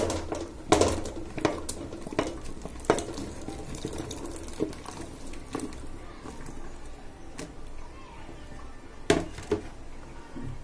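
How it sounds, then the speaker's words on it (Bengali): Vegetables drop one after another into spice paste frying in a pan, giving a bubbling, spitting sizzle punctuated by sharp clattering knocks and plops, loudest early on. "এবার আমি একে একে সবজিগুলো আস্তে আস্তে দিয়ে দিচ্ছি।"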